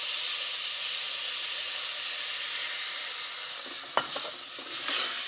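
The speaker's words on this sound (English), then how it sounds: "And we're going to coat this rice in flavorful fat. And the first addition of liquid is going to be wine." Rice coated in fat toasts in a pan with a steady, bright sizzle, then wine is poured in and a sudden louder hiss and spatter swells near the end.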